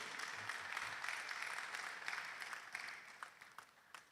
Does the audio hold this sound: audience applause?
yes